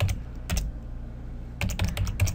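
Typing code on a computer keyboard: two short clusters of crisp key clicks, a brief burst then a longer run of rapid taps after a pause, close and moderately loud with no talk.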